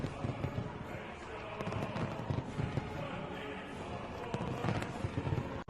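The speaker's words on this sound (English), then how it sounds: "The gorgeous fireworks on display now symbolize our motherland's glory and vitality." Continuous dense crackling and popping of fireworks, loud and sustained with sharper bangs scattered throughout, muffled crowd noise underneath.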